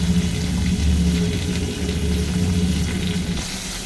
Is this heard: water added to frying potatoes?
yes